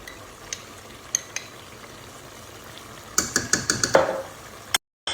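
Tomato paste and seasoning are stirred in a pot: after faint, sparse clicks, a quick run of close, rhythmic scraping knocks of a spoon against the pot, about eight strokes, then silence.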